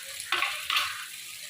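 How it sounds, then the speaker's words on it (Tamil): Onions sautéing in a pan for Coimbatore Angannan-style chicken biryani, a soft steady sizzle with two brief louder bursts of stirring near the start, then settling back to a low fry. "வெங்காயம் நல்லா வதங்கி வந்துருச்சு"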